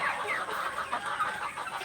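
Three-and-a-half-month-old chickens from a new batch on a poultry farm, several birds clucking and chirping in quick, overlapping calls, close and moderately loud.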